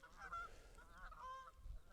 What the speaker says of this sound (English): Those geese can shut up.